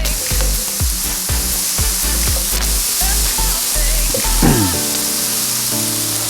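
Broccoli and red potatoes sizzle loudly in a pan while being stirred, the steady frying hiss punctuated by repeated scraping and clattering strokes up close, with no speech.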